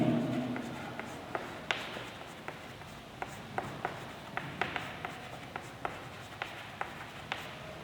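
Chalk or pen tapping and scratching on a board during a classroom lesson on flower morphology, making a string of short, sharp, fairly faint strokes at an irregular pace over a quiet room.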